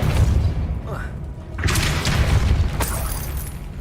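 Depulso force spell cast in Hogwarts Legacy, a deep booming thump followed by a whooshing, shattering burst, loud and close among game effects and a voice.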